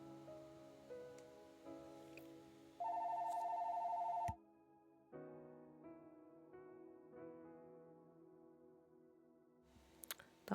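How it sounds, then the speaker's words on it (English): A phone rings indoors, a steady electronic tone sounding once for a second or so amid quieter background sounds, with no one talking. "That was the phone."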